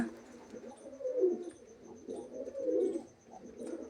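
Pigeons coo softly in a bush, close by, with low rounded calls repeating about every second and a half.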